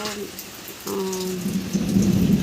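Rain falls steadily, getting a little heavier toward the end, with a low tonal hum running underneath.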